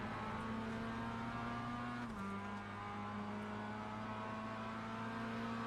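Mazda MX-5 race car engine from an onboard view in a racing simulator at Oulton Park, holding a steady drone that drops pitch briefly as the driver shifts, then carries on at an even level with no talk.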